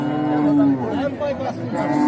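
A cow moos in a long, low call, followed by shorter lowing sounds amid a murmuring crowd at an outdoor cattle market in Barishal.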